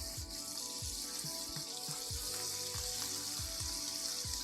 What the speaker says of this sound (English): Put our shrimp down, season side down.